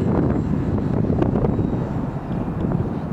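Strong gusting wind buffets the microphone outdoors while an RC trainer plane (FMS Kemy) flies, a steady loud low roar with faint engine whine above, no talking.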